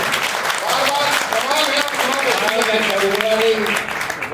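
Audience applause rings out at a spirited poetry recitation by an 85-year-old lyricist, a dense, steady clatter of many hands with a voice talking over it throughout.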